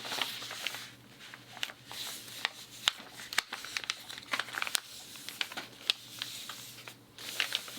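Paper sewing pattern being folded to mark a color block, giving a steady run of crinkly rustles and sharp crackles, close by, with a faint low hum underneath and no talk.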